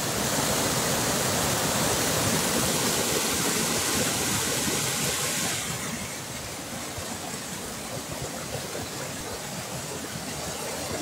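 A recorded flowing stream played back: a continuous broadband rush of water, loud and steady, slightly quieter in the second half, with no talking.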